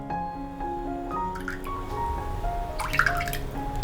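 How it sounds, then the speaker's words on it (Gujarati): Water is poured into strained lemon juice in a kitchen, giving a steady trickle with light drips and splashes that grow brighter toward the end, close and alone without talk. "ત્યારબાદ તેમાં 3 ટેબલસ્પૂન પાણી એડ કરી દઈશું"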